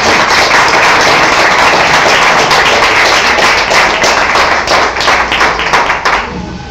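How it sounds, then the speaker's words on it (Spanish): An audience welcomes a speaker at a book presentation with loud, sustained applause that fills the room, then thins toward a few scattered claps at the end. "Entonces recibámoslo con un aplauso"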